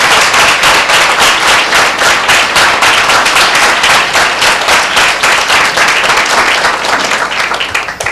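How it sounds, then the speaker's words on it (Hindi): A Sunday church congregation bursts into loud, sustained applause, many hands clapping fast and dense at close range for about eight seconds, with a few sharp louder claps standing out. "एक जोरदार ताली परमेश्वर के नाम को देते हैं।"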